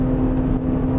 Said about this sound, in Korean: 가속 페달 툭툭 엔진 회전수를 올려서 툭툭 밟아보면 즉각적인 반응 보이는 거 알 수가 있겠죠